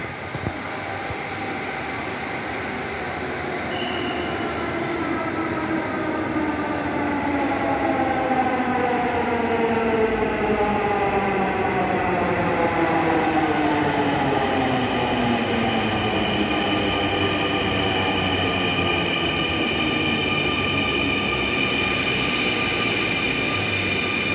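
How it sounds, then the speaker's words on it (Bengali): Metro rail train pulling into a station platform, a loud rising electric motor whine with gliding tones and rolling wheel rumble building over about twenty seconds as it arrives close by. "মেট্রো রেল আসতেছে।"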